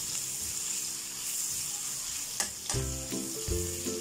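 Ground pork or beef sautéing in a pan for adobong labong, with salt and pepper: a steady sizzle, then a sharp clatter and louder frying bursts as the meat hits the oil and is stirred.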